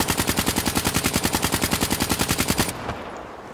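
Rapid automatic gunfire from a weapon in the video game Black Ops 3, a steady stream of fast, evenly spaced loud shots for over two seconds that stops abruptly, leaving a faint tail.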